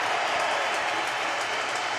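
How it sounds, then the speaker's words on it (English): A stadium crowd applauds Leo Messi, a dense, continuous wash of clapping and crowd noise held at a steady level, far off and broad. "Leo Messi there with the boys, receiving the applause of the whole stadium"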